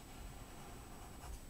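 Pen drawing a line on paper during a zen colouring tutorial, a faint, steady scratching stroke, quiet and close, with no voice.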